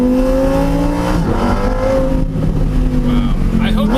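A Lamborghini Murcielago SV's V10 revs on a mountain road, its harmonics rising and falling steadily over a loud, continuous engine bed, with crackles on the overrun.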